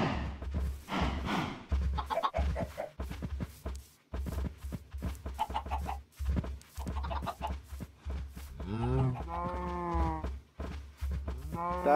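Cows mooing repeatedly in a video game farm, low drawn-out calls overlapping one another with chickens clucking amid the herd, close and steady throughout.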